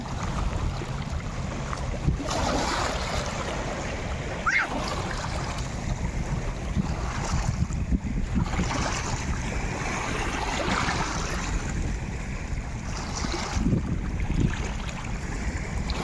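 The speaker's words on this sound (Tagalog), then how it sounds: "Sobrang lakas ng hangin." Strong wind at Coron, Palawan, Philippines roars steadily, buffeting close by, with a broad rushing noise mixed with what sounds like water and waves.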